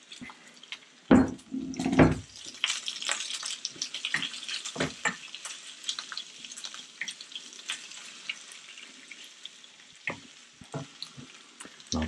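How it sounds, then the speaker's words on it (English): Sliced cutlassfish (tachiuo) fillets hit a hot pan with a couple of sharp clattering thumps, then a soft, steady sizzle carries on, with occasional light knocks and scrapes. "Then we'll put in our uh, tachiuo fillets, sliced"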